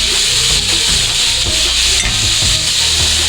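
Onion and green chillies frying loudly in coconut oil, a dense close sizzle with rhythmic scraping stirs of a spoon against the pan.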